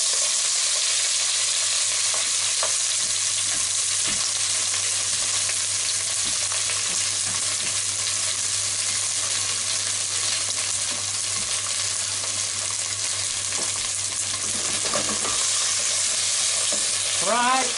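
Chinese cabbage (hakusai) sizzles steadily in a hot frying pan as it is stirred, with broadband frying hiss throughout, occasional scraping and clinking of the utensil, and a steady low hum underneath.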